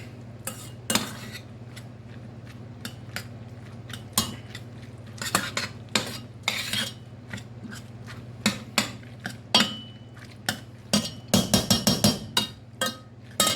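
A utensil stirs cheeseburger macaroni in a pan on a switched-off stove, making repeated scraping clinks and taps at an uneven rhythm over a low steady hum, with a quick burst of clatter toward the end and no voices.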